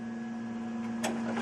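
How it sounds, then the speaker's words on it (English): A Gerber FX sprocket-fed printer being loaded with polycarbonate gives off a steady electrical hum with a soft mechanical click near the end, close and fairly quiet. "now I'm going to load the Gerber FX printer"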